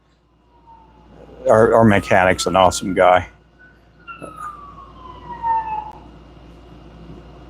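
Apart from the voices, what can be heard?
ambulance siren passing on road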